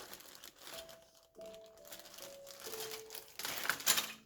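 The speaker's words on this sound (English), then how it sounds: "Oh, package is open." Crinkling plastic packaging of a military figure model kit being torn and opened up close, a run of dry crackles and rustles rising to a louder burst near the end, with a faint steady tone underneath.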